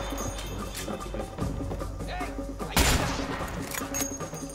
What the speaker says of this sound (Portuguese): tô atirando no cara